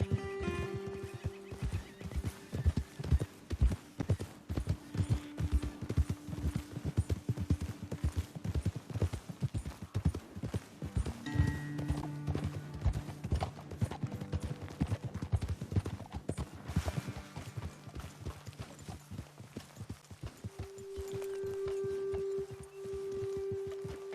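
Horse hooves clip-clop steadily in Red Dead Redemption 2, several animals walking at a relaxed pace, with an occasional whinny and soft ambient tones.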